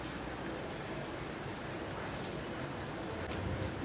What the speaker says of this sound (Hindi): झीसा पड़ रहा है